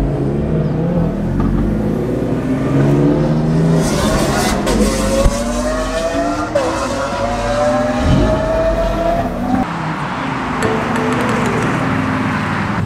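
A Lamborghini Aventador on a public road, its engine revving and accelerating loudly with rising and falling pitch sweeps, heard from a following car amid road and traffic noise.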